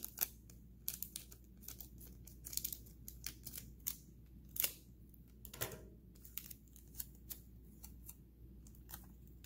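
Scissors snip through packing tape while rectangles are cut for homemade scratch-off tickets, giving a series of quick, close, crisp snips and crinkles spaced irregularly over a quiet background.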